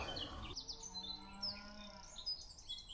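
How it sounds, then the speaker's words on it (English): A cow moos in the distance, a long low call, with birds chirping and tweeting faintly around it in an open outdoor setting by a summer carp fishing lake. "There's cows going."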